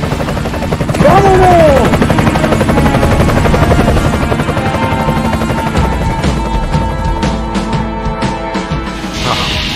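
A helicopter in a video game roars loud and close in a continuous rotor drone, with bursts of gunfire-like cracks as a voice shouts briefly near the start.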